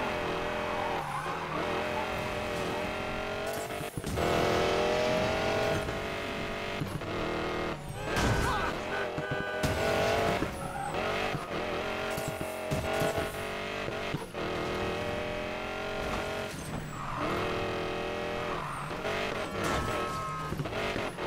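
Race car engines roar and tires screech in Need for Speed Payback at the Silver Casino, a steady loud drone of revving cars with skids, mixed with game music.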